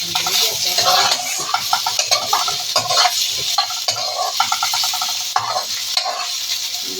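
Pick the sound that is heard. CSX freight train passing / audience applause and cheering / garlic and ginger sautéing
garlic and ginger sautéing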